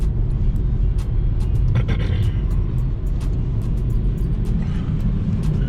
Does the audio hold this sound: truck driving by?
yes